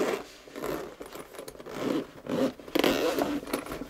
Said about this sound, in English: Let's get it unzipped.